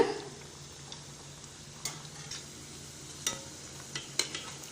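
Chicken curry vadai frying slowly in hot oil over low heat, a soft steady sizzle with faint scattered ticks and pops, quiet and close with no talking.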